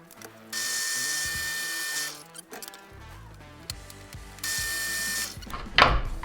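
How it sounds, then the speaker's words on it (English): Power drill recessing holes into the sides of a small wooden spice rack, two sustained whining bursts with a pause between them, close and fairly loud, with some handling clatter in the gap. "I'm going to go ahead and recess some holes in the sides of the little rack"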